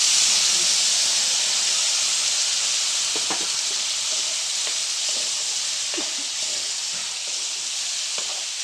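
Spice paste of cumin powder, red chilli and meat masala sizzling and frying in hot oil, a steady loud hiss joined by occasional scraping clicks of stirring.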